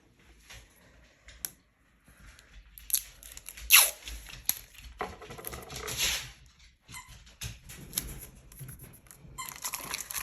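Dog playing noisily with squeaky toys indoors, scattered short squeaks, crunches and rustles coming in irregular bursts, fairly faint and without talk.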